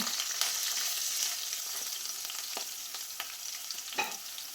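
Crushed ginger and garlic fry in a pan with a steady sizzle as a spoon scrapes through them now and then, with no voices.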